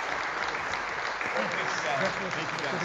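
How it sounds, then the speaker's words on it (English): Steady applause from a crowd fills the space, with voices faintly audible beneath the clapping. "ladies and gentlemen, how about a big round of applause"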